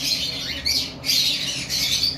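A cockatiel at a bird farm squawks in loud, harsh, repeated bursts close by, with no talking.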